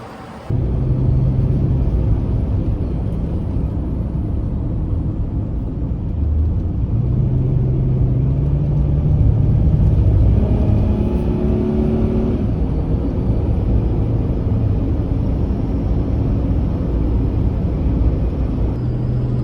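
Semi truck cruising on a US highway in Pennsylvania, a steady loud engine drone and road rumble with a slight rise in pitch midway, no talk.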